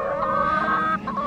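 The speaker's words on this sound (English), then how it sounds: "You love chickens, don't you," Chickens cluck close by on a UK family farm, a brief burst of overlapping clucks and calls with no voices.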